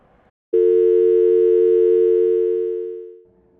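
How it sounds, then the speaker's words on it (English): A single steady telephone tone, likely a dial or ringback signal after placing a call, starts abruptly and holds loud and unbroken for about three seconds before fading, with brief faint sounds before and after. "so you try and give it a call"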